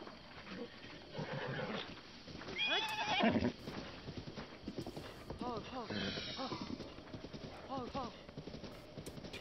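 A horse in the video game Zelda Breath of the Wild gallops with steady rhythmic clip-clop hoofbeats and lets out a neigh, while someone talks over the game sounds throughout.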